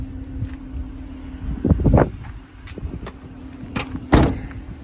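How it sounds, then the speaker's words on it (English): A 2015 Dodge Grand Caravan minivan's sliding side door rolls along its track and thuds shut, followed by a second clunk, with a low engine hum underneath. "Both side doors slide"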